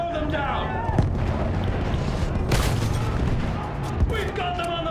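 Machine gun fire on a World War I battlefield in the Battlefield 1 video game, dense rattling bursts and booming explosions under shouting voices.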